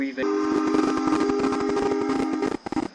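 A passenger train in the Roblox game Jailbreak sounds a loud, sustained horn chord for nearly three seconds, steady and close, cutting off abruptly near the end.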